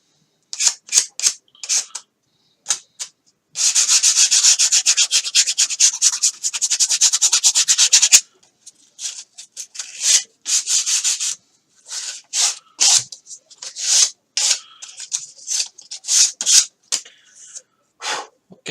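Rubbing and sanding on the edge of a foam wing piece for a flying-wing model, rounding it off: short scratchy strokes, then a long steady stretch of continuous rapid sanding, then more irregular rubbing bursts, close and clear with no talk.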